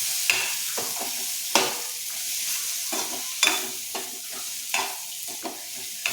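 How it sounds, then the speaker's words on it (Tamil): Grated coconut crackles and sizzles gently in a hot pan while a spoon scrapes and stirs it at intervals, close and quiet. "அதையும் நல்லா வதக்கிக்குவோம்."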